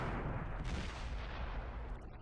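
Tank cannon fire in the World of Tanks Xbox 360 game, a dense run of loud booming shots and rumbling impacts striking an enemy tank, with no voices.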